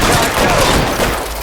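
Sustained gunfire from an L.A. Noire shootout, a loud, dense fusillade of overlapping shots rattling on without a break, with shouted voices mixed in.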